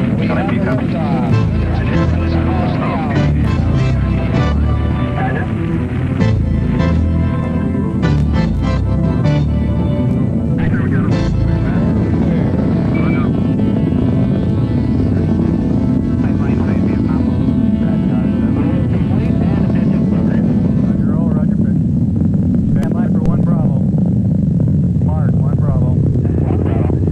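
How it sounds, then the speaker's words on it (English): Rocket engines roar at liftoff of a crewed Moon mission, a loud, continuous low rumble that lasts about half a minute, with a voice speaking over it. "All engine running. Liftoff. We have liftoff."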